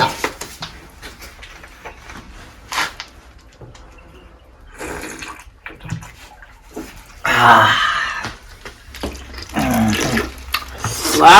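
Water splashes and runs in several bursts, as if poured from a vessel for drinking, loud and close, with pauses of quieter background between pours.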